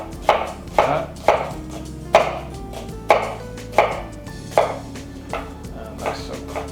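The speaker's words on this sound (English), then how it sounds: "Cut it in slices." A kitchen knife slices through a vegetable on a cutting board in about nine crisp, evenly spaced chops, close and clear with no talking.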